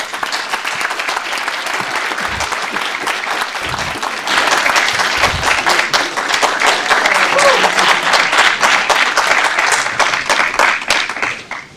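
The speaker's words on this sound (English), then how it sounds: "Let's give them a round of applause." Audience applause at a candidate forum: a moderate patter of clapping that swells into fuller, louder applause from the assembled crowd, then tapers off at the end.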